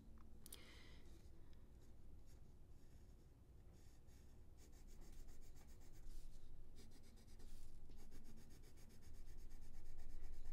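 A Faber-Castell Polychromos coloured pencil rubs back and forth on paper up close, a soft continuous scratchy stroking that grows slightly louder as the paper is saturated with colour, with no talking.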